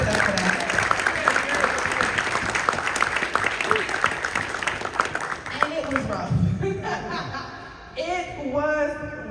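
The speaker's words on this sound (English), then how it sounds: "We can clap it up for that." Keynote audience at a conference claps and chuckles, a dense round of applause with scattered laughter that tapers off as a speaker's voice carries over and continues.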